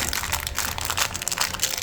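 Plastic bag packaging around a Madam Glam nail product crinkles and rustles close by in quick, uneven bursts as it is handled and opened.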